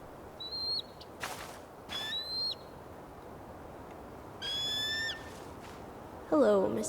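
Eagle calls in the video game Tell Me Why, a few short whistled cries spaced across the clip against a steady ambient background, with a brief rougher burst near the end.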